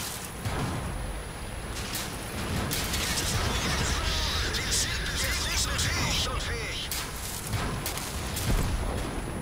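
Heavy booming tank cannon blasts in World of Tanks, repeated amid dense explosive noise and battle clatter, loud and close.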